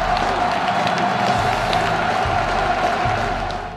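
A boisterous basketball crowd in a packed college fieldhouse during a Kansas–Missouri rivalry game roars steadily, a loud, dense wash of cheering with scattered claps and shouts, fading slightly at the end.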